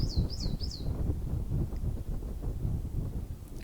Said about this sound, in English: You might be able to hear all those birds.